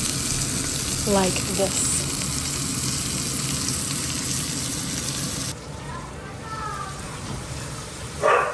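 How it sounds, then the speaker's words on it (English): Beef roast searing in avocado oil, a steady loud sizzle running throughout, with a brief spoken remark over it and a shift to a quieter sizzle partway through. "you want to sear it until you have a nice golden brown color on the outside of your roast"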